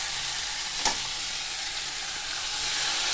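Chopped tomatoes fry in a pan, producing a continuous loud, even sizzle with a single sharp tap near the start, with no talking.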